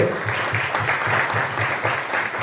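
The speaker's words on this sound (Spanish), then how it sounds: "Vamos a dar un aplauso a la palabra de Dios." A church congregation claps together, a dense, steady round of applause heard close and continuous throughout, with some voices mixed faintly underneath.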